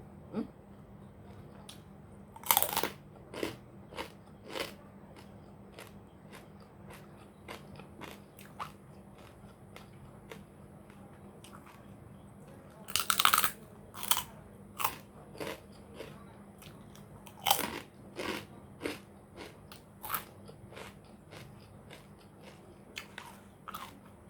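Crisp pork rinds crunched close up in a Thai home kitchen, served dry alongside sticky rice; sharp irregular bites and crackling chews come in scattered bursts with quiet pauses between, and no one talks.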